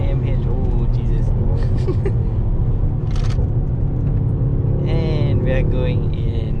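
A Mercedes-AMG GT 63 S 4 Door rumbles loudly at speed from inside the cabin, a dense engine and road roar that holds steady as it brakes hard from 215 km/h, with excited voices talking over it.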